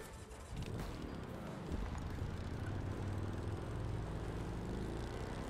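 A video game helicopter engine in The Crew 2 drones steadily with a rhythmic rotor thump, building in loudness after the first half second and holding constant.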